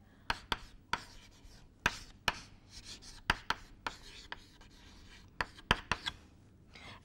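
Chalk taps and scratches on a lecture board in quick irregular strokes, with sharp clicks scattered over faint rubbing and a quiet room behind.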